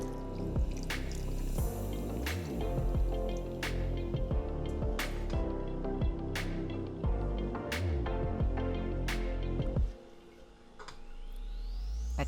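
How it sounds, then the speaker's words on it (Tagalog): Water poured into a pot of chicken adobo, a bubbling, gurgling stream with rising chirpy tones as the pot fills, steady and close, then cutting off abruptly near the end. "Isunod na rin natin yung tubig."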